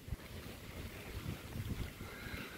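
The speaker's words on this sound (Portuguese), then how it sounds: "agora tá um vento gostoso" Gusty wind after a brief late-winter rain shower under cloudy skies in Guajará-Mirim, Rondônia, buffeting the microphone with steady low rumbles and irregular thumps for a few seconds, with no voices.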